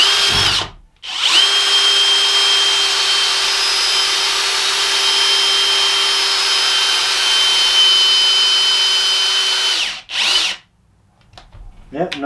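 A Kobalt hammer drill drives a 10-inch screw into wood in one long continuous whine of about nine seconds, loud and close, with a short burst at the start and a quiet tail afterward.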